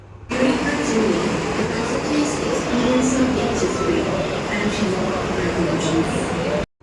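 Steady rumble of a metro train in motion, with a constant loud low roar and rattling throughout, and a person talking over it.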